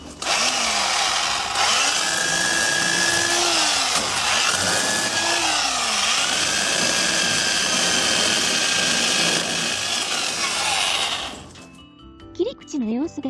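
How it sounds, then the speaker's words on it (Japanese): A chainsaw cuts through the base of a dead climbing rose (Leonardo da Vinci variety), its loud, steady whine holding for about eleven seconds with pitch dips as the chain bites, then cutting off abruptly. "株元は手っ取り早くチェーンソーで切りました。"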